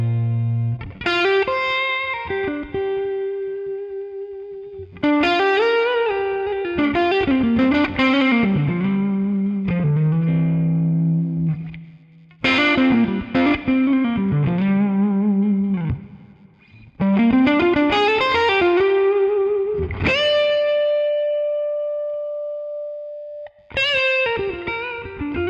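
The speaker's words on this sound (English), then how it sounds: "for me that's some of the best Dumble tones that I've heard, full stop" Electric guitar played through a Dumble ODS amp model in ToneX, loud and overdriven with smooth sustain, phrased as bluesy single-note lines and bends with held notes and brief gaps.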